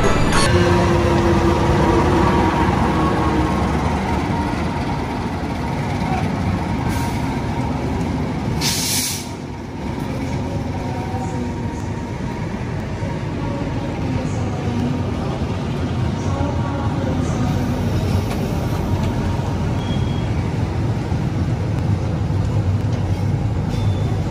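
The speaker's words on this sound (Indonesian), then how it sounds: "Bentar lagi akan segera datang kereta api Argo Muria dari Semarang tujuan Jakarta Gambir." Argo Muria passenger train from Semarang to Jakarta Gambir pulling into track 2 of a station, a loud sustained rolling rumble with a brief hiss of air brakes partway through, heard close and steady.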